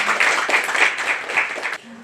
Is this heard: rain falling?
no